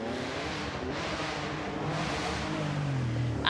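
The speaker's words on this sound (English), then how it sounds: "the dulcet tones of a Metro 6R Porsche take off" Metro 6R4 rally car setting off on a rally stage at the Goodwood Festival of Speed, engine rising as it pulls away at moderate distance, steady and somewhat muffled.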